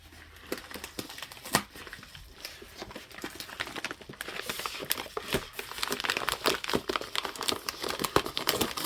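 Paper crinkles and rustles up close while a Christmas advent package is unboxed, a quiet, irregular stream of crumpling and crackling that grows busier toward the end, with no speech.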